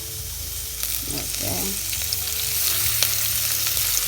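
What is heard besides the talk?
onions frying in oil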